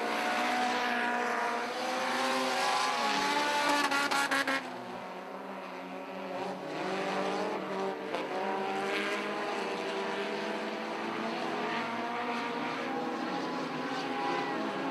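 Pro 4 race cars battling for position at Wilmot Raceway, engines droning and whining steadily at moderate distance, with pitch shifts as the cars pass and a sharper burst early on.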